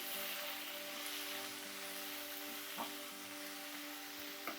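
About 250 grams of paneer sizzles softly in a pan while being stirred lightly. A faint, even frying hiss carries a low steady hum beneath it, with a couple of small scrape ticks and no voices.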